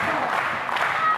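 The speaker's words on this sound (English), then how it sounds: "The crowd heavily behind Kid Canuck." A wrestling crowd cheering and applauding at a little people wrestling match, a brief loud roar of voices and clapping that holds steady throughout.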